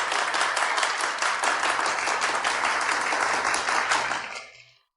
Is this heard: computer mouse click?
no